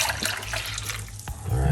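Liquid from a homemade herbal remedy poured back into a cooking pot, a steady splashing pour heard close up with no talking.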